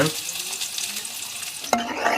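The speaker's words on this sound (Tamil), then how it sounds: "அந்த எண்ணெயிலேயே நல்லா வதக்கி விட்டுடலாங்க" Steady crackling sizzle of chopped onions frying in hot oil, close and continuous, with a brief clatter of stirring near the end.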